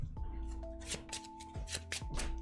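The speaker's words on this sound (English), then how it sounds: "Shuffle them up." A deck of playing cards for the Marvel Champions card game being shuffled up close, with several quick riffling bursts and soft thuds in an uneven rhythm, a faint background tone underneath.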